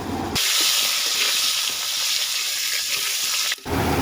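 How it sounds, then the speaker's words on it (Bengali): Cut potatoes dropped into hot oil in a pan burst into a loud, steady sizzle and hiss that holds for about three seconds before cutting off. "এবার ওই একই তেলে ভেজে নেব কেটে রাখা আলুগুলো"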